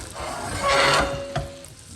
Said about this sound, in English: we're going to stop the boiling and we're going to add our apples.